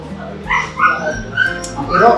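A dog yips, barks and whimpers close by in short bursts, mixed in with people talking.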